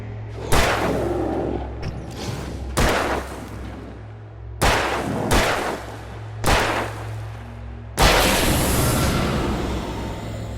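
Heavy gunshots in the horror game Alan Wake Remastered, five or six loud, separate booming blasts spaced a second or two apart, each with a short echoing tail over a low steady hum.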